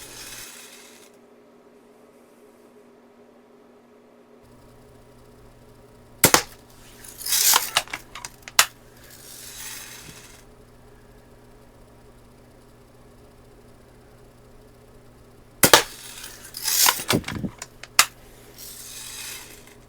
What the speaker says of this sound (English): Let's shoot the next one over, the top right-hand target.